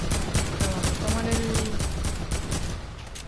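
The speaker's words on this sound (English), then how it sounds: "Someone else is shooting at us." Rapid bursts of gunfire in the video game Fortnite, a string of sharp repeated shots in quick rhythm fairly close, with faint game tones in the background.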